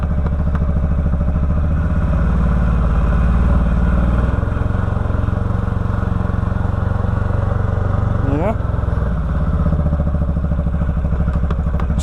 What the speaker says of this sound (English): Yeah, that belt's definitely slipping bad.